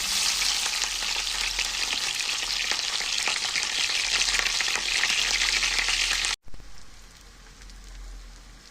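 Chicken and onion frying in a pan, a dense steady sizzle with crackles running loud and close for about six seconds, then cutting off sharply before a quieter sizzle resumes.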